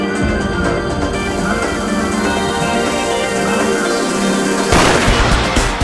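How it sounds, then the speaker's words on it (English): Gunfire-like booms and dense, loud crowd noise fill the start of the Kilimanjaro Premium Lager Marathon, with a sharp burst near the end. "The starting gunshot and the cheering of the large crowd caused the runners' adrenaline levels to rise"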